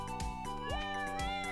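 A black cat in a Stardew Valley mod meows several times in quick succession, short clear calls up close over the game's continuous music, with no talking.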